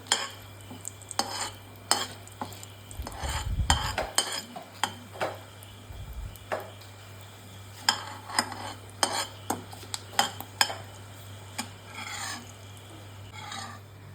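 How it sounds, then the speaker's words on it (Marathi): Cloves and star anise roast in a pan, giving a dry, scratchy scrape and rattle as a utensil stirs the spices, with irregular clinks and short scraping bursts at close range and a low background hum. "परत लवंग आणि आपले चक्रीफूल जरासं घालून भाजून घ्यायचं आहे।"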